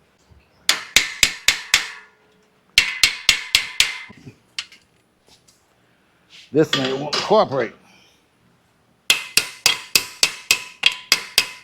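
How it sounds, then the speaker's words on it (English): Hammer blows driving a metal shelf part into place, sharp ringing metallic strikes in quick bursts of four to six, with a short stretch of speech in between. "Let me get a bigger hammer."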